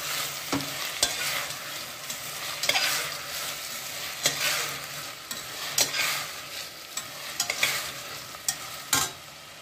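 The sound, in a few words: sautéing potatoes and carrots with tomato in a pan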